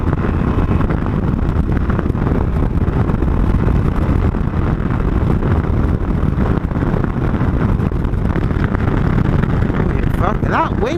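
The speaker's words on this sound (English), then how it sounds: "that wind is strong, man" Strong wind buffeting an outdoor microphone, a constant heavy rushing roar filling the whole stretch without easing, loud and close.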